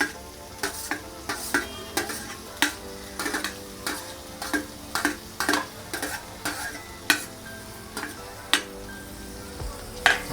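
Chopped onion and tomato fry in hot oil in a pan at home for an egg dish, with a steady close sizzle and repeated loud scrapes and clacks of a spatula stirring against the pan.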